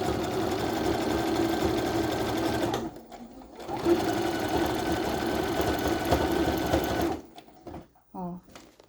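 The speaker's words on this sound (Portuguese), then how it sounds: "Vou continuar na minha costura." A sewing machine stitches a tank top while binding bias tape over the fabric, running in two long steady bursts split by a short pause, then stopping with a few faint clicks and a brief voice at the end.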